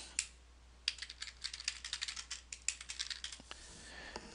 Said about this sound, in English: type in the body,